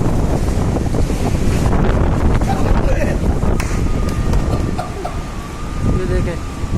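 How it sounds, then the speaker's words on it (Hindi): Heavy rain and a strong windstorm in Karachi, with loud wind roaring and buffeting close by over rushing, splashing water. The gusts swell and ease throughout, and a voice can be heard briefly. "ये बारिश है, पानी है, ये पानी है और तेज़ हवा है"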